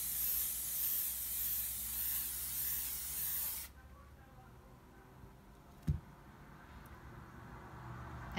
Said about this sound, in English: you should spray it from like 20 centimeter